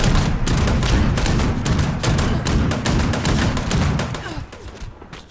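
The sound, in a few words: harpoon gun firing in Fallout 76 video game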